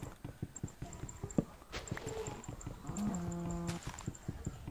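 A cow in Minecraft gives a single drawn-out moo amid clopping footstep sounds and small clicks, fairly close, with no talk.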